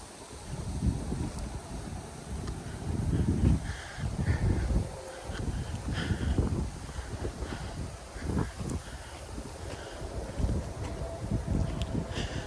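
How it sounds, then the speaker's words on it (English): Wind gusts through woods near Baldwin Pond in Conneaut, buffeting the microphone in uneven surges, with faint creaks from swaying trees and occasional distant bird calls in between. "Can hear the trees creaking in the wind."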